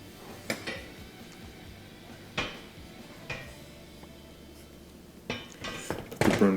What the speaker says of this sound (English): Put the burner grate back in position.